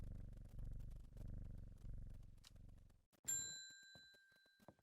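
A cat purrs when petted in the video game Strange Horticulture, a low, rhythmic rumble lasting several seconds. It then gives way to a bright bell-like ding with a ringing tail.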